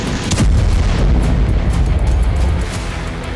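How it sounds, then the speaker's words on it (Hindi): A missile strike on a residential building in Kharkiv, heard as a loud, rumbling boom with heavy low-end roar that rolls on steadily for a few seconds, no voices present. "इसके धमाके से दर्जनों फ्लैटों के, कई फ्लोर्स के फ्लैटों के शीशे टूट गए"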